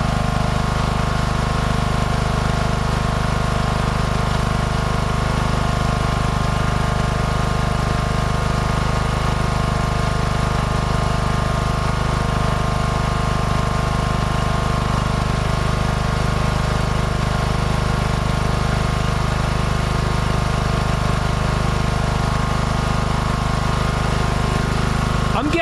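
A lawn mower engine at mowing throttle runs steadily and loud for the whole stretch, a constant droning hum with no pauses or changes in pitch.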